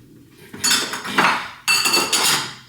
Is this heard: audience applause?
no